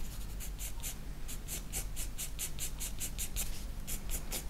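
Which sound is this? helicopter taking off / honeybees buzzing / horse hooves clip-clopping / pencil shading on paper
pencil shading on paper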